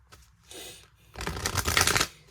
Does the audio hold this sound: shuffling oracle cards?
yes